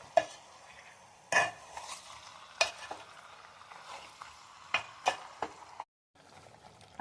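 A spoon stirs chicken curry in a pan, scraping and clinking in scattered bursts over a faint sizzle, close by with short pauses between strokes.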